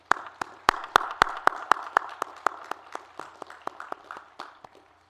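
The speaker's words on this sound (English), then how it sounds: "Let's give them all a round of applause and thank them for their dedication." Commencement audience at a graduate school ceremony claps for friends and family, a spread of sharp hand claps in steady rhythm that fades out over about five seconds, heard alone without talk.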